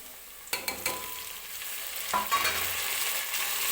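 Tomatoes tossed into onions already fried golden in oil for veg pulao, giving a few sharp clatters of stirring followed by a steady, close sizzle that builds and holds with no one talking.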